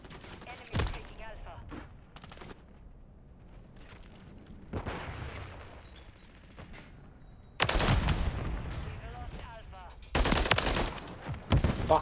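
Sentry gun in Modern Warfare 3 multiplayer on the Rust map firing in loud, dense automatic bursts, with shorter gunfire between them and talk mixed in.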